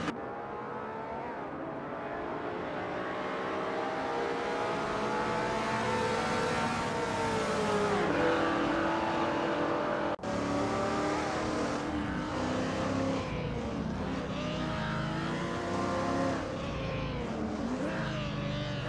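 Engines of AI-driven supercars racing at Weatherfield Speedway: a continuous loud roar with pitch rising and falling through gear changes, shifting as cars pass and accelerate, with no talking.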